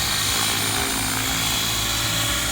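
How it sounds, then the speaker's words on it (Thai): Size 500 GARTT flybarless RC helicopter in flight, a loud, steady whine of motor and rotor blades filling the whole stretch with dense broadband noise, close and continuous. "เฮลิคอปเตอร์ไซส์ 500 แบบ บินโคง กลางๆได้ ได้ 10 นาทีแน่นอนนะครับ"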